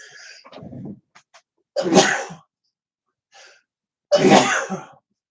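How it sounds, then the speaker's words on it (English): Two loud, sharp sneezes a couple of seconds apart, each preceded by a quick intake of breath, close to the listener. "I got to sneeze too."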